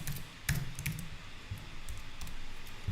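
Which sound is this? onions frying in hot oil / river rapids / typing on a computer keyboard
typing on a computer keyboard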